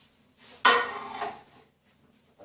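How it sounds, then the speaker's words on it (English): A container being set into a microwave, a single clattering knock of plastic or glass against the tray, followed by brief softer rattling, close and fairly loud in a quiet kitchen. "you're going to put it in the microwave for like a minute"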